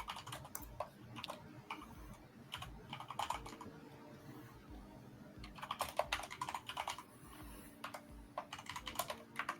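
Fingers tap quickly on a computer keyboard in bursts of rapid keystrokes separated by short pauses, close and quiet, with no talking.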